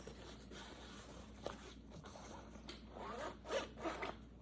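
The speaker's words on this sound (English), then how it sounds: "There's a zipper here on the outside." A zipper on a toiletry bag is pulled open in quiet, close rasping strokes, several short scratchy runs with soft rubbing and handling noise between them, growing slightly louder toward the end.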